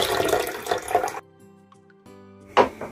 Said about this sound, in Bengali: সেই ছোলার ডালটাকেও ধুয়ে নিচ্ছি